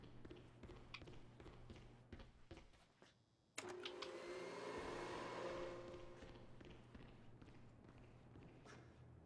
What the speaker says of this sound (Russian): Пойду включу пылесос.